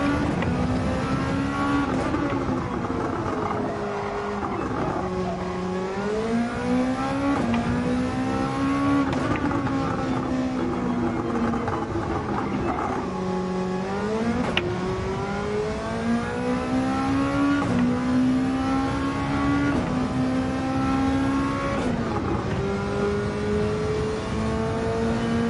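In Gran Turismo 7, a race car engine revs hard, climbing through the gears with repeated upshifts, a loud continuous engine note rising and dropping with each shift.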